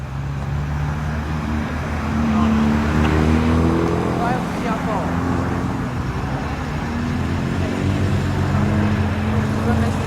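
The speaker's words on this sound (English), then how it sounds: "Another Triumph TR4." A Triumph TR4 classic car engine drones past at Oulton Park during a classic car rally, a steady, rising and falling hum, mixed with background traffic noise and some indistinct talk.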